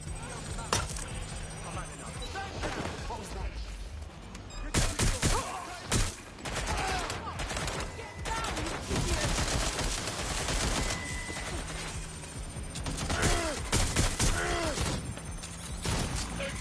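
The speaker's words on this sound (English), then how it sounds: "Taking fire!" Gunfire from the video game Watch Dogs: Legion, dense bursts of shots and automatic fire filling the whole stretch, with crashes and mechanical clatter mixed in and game voices now and then.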